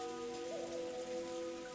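Steady rain falling on a rose garden in the visual novel Umineko, a dense, even hiss of drops on surfaces with a faint tonal hum of game music beneath, continuous and without voices.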